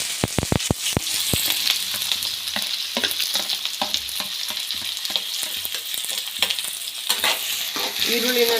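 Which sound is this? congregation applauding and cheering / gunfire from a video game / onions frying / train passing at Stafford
onions frying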